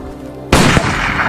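A single loud gunshot cracks at a shooting training range in a film, a sharp close blast with a short rumbling tail after a quiet lead-in.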